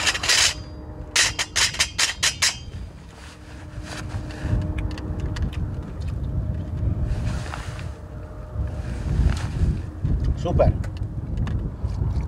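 Cold wind gusts outdoors around a small wood and pellet camp stove, buffeting the microphone in uneven rushes, with someone speaking intermittently and a few sharp clicks and knocks near the start.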